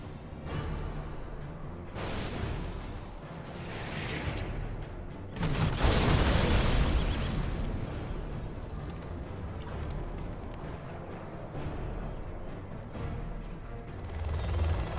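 Artillery level 2 strike landing in the tower defense strategy game TD Classic, a heavy rumbling boom burst around the middle, swelling loud then fading into continued mechanical game noise.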